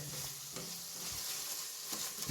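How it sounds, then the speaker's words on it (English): Masala stirred in a frying pan for fish curry, a spoon scraping through the thick spice paste with a few clearly spaced strokes over a steady close sizzle. "Now we should stir it properly."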